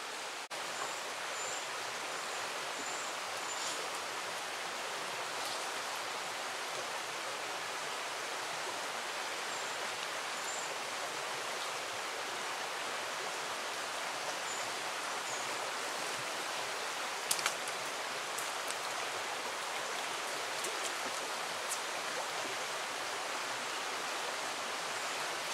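A stream rushes through rocky pocket water on a fly fishing river, a steady broadband wash of flowing water that stays constant and fairly soft throughout, with no voices.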